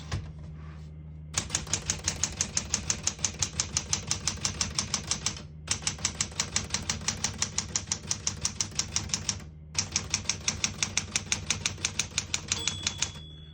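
Brisk typing on a 1966 Smith-Corona Galaxie II portable typewriter, a fast even patter of sharp key strikes in three long bursts separated by brief pauses, close and clear, with a small bell ding near the end.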